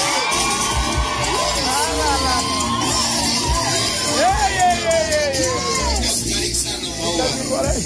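A crowd at a church engagement ceremony cheers and ululates continuously, with high trilling calls and shouts rising over loud babble throughout.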